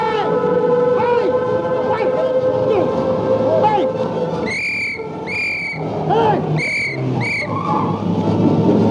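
A late-1930s car pulling away and skidding, with engine drone and tire squeals sliding in pitch, followed by several sharp, repeated high squeals near the end, all fairly loud and close.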